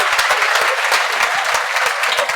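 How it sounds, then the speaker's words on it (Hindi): Audience applause fills the whole stretch as steady, dense clapping from a crowd, loud and close, with no talking over it. "एक बार तालियां बजा दो यार।"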